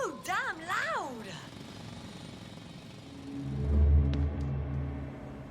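A loud mechanical drill in the video game The Invincible rises as a deep, grinding rumble and peaks near the end, after a brief voice-like tonal sweep at the start.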